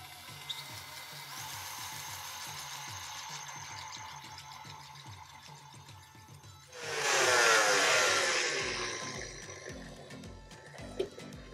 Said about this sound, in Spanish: Los voy a mezclar muy bien hasta que quede una mezcla bien esponjosa.